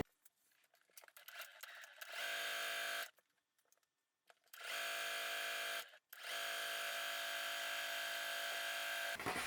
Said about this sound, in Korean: 시접 1cm로 쭉 사각형 재봉을 이어서 해주시면